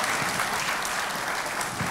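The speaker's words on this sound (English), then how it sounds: "Let's give her a big round of applause." Studio audience applause greets a guest on a panel at a youth violence show: a short, even burst of many hands clapping, close and fairly loud, with no voices over it.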